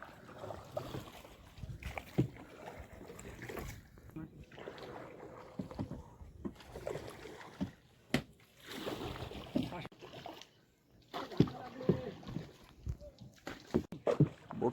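Oars work a wooden boat rowed by a lone boatman in the Sundarbans, with splashes and water sloshing in an irregular rhythm close by, and people talking over the strokes.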